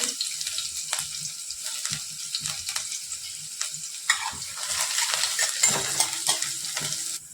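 Garlic, ginger and finely chopped green chilli sauté in oil over a high flame, giving a quiet, steady sizzle with scraping stirs and a slight swell of crackling near the end.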